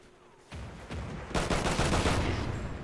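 Close hip-fired gunshots in a video game: a quiet lead-in, then sharp shots that build into a dense, loud burst of rapid fire lasting to the end.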